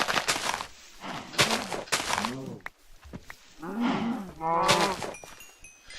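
Several video-game cows moo one after another in long, drawn-out calls, loud and close, with short pauses between them.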